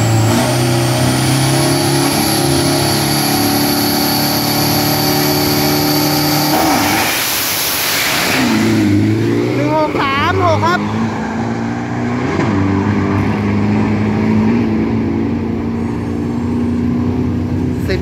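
A drag racing car, likely the Toyota Starlet, makes a loud, close 402 m run at Bangkok Drag Avenue with the engine roaring and revving hard, shifting up through the gears. Crowd noise and a commentator's voice run beneath it.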